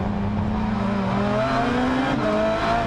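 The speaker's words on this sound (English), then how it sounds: "look how quickly he gets on the gas and how the car picks up speed" A race car accelerating on the Zolder circuit during a Supercar Challenge round, its engine note climbing steadily in pitch with a gear change partway through, loud and continuous.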